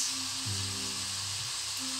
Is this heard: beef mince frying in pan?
yes